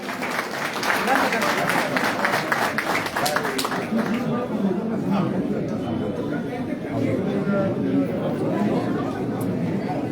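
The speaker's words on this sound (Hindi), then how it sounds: "एक बार जोरदार तालियां।" Loud, sustained crowd applause fills a community gathering of Uttarakhand people in Sector 16, Faridabad, with steady clapping and background chatter and talk throughout.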